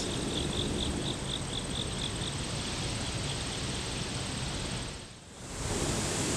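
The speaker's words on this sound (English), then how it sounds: "The quiet chirping of crickets." Quiet crickets chirping outdoors in short regular pulses over a broad steady hiss, the chirps fading out after the first couple of seconds.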